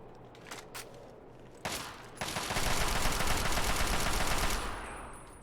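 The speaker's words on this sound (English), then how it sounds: "I want to shoot you with this gun." Sustained burst of automatic gunfire from a weapon in the video game Fallout's Operation Anchorage, a few isolated shots first, then a loud, dense rattling volley lasting several seconds before tapering off.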